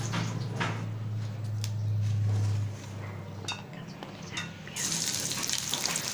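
Spices hit hot oil for a loitta shutki dry fish curry, starting as a soft sizzle with occasional utensil clinks over a low hum, then swelling to a loud, bright frying hiss near the end.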